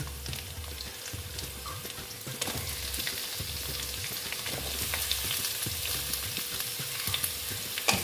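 Potato and pumpkin pieces frying in a pan, a continuous oily sizzle with repeated scraping strokes of a spatula stirring them, close and steady without speech.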